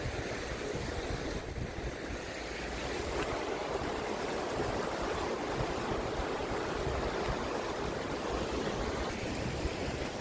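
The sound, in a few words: flowing river water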